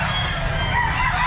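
A rooster crows loudly at a busy pet market, one sustained call that fills the moment over a steady background hum of the crowd.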